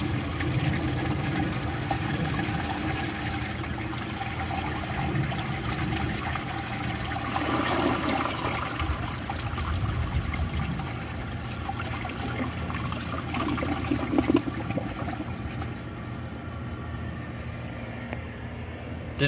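A 1963 Chicago Potteries toilet flushing a washcloth: a steady rush and swirl of water runs throughout at close range, with gurgling surges near the middle and a slight tapering toward the end.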